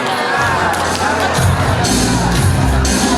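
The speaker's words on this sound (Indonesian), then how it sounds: "Tepuk tangan dulu buat Anda semuanya." A seminar crowd at an agent gathering cheers and whoops with dense, continuous noise, loud and close, swelling partway through as the rowdy roar builds.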